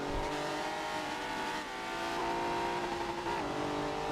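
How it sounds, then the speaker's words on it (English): Race car at the Silverstone circuit, its engine held at high revs on the rev limiter in a steady, continuous buzzing drone with slight pitch shifts, no voices. "Shrek is bouncing off that rev limiter trying to catch up to Sakura"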